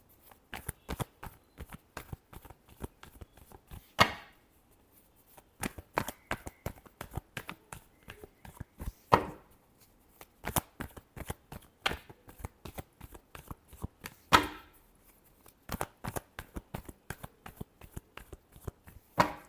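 Tarot cards shuffled by hand in rapid bursts of crisp flicking riffles, repeated over and over with short pauses and a few sharper snaps at the ends of passes.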